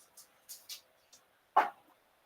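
A hound barks indoors: a few soft yips and whimpers, then one loud, sharp bark near the end, all fairly close with no voices.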